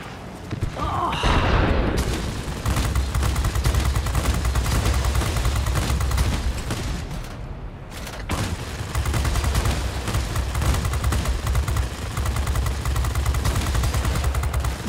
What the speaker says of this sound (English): Guns are overheating again.